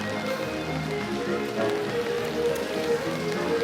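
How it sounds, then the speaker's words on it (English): Steady rain falls at Disneyland Paris in May, a dense, even hiss of drops pattering on surfaces all around, continuous and fairly close with no voices. "the Met Office app says it's raining all day, like this."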